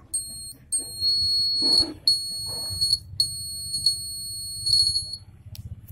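A shrill electronic alarm buzzer from a homemade automatic alarm system sounds in repeated bursts, loud and piercing, with short gaps and a few faint knocks between.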